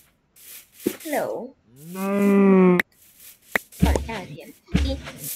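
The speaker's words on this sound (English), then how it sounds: "Cows are good because they are food." Cows in the video game Minecraft give several clear, close moos in a row, separated by short gaps and mixed with other brief game sounds.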